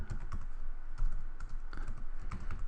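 Keystrokes on a computer keyboard while entering a link in a WordPress post, a close, steady patter of uneven clicks with brief pauses between bursts and no talking.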